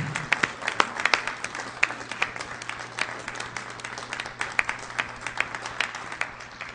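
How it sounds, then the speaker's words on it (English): An audience applauds steadily, many hands clapping at once in a dense, sustained patter with a faint low hum underneath. "Let's give him a warm round of applause for Mr. Ted Gunderson, ladies and gentlemen."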